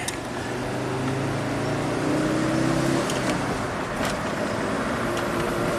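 An Audi turbo car engine holding medium throttle while driving, a steady low drone with road and interior noise, moderately loud and continuous throughout.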